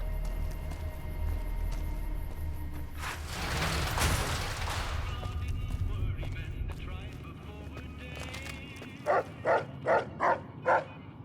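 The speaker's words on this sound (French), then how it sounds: "Pourquoi tu aboies, toi?" A dog in Fallout: New Vegas barks five times in a steady rhythm near the end, following a stretch of game ambient noise and a loud whooshing burst.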